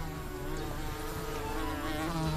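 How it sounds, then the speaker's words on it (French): A pet fly buzzing steadily and closely in a French children's cartoon, a continuous droning hum with no speech over it. "Je pense que ma mouche Cri-Cri a peur de toi"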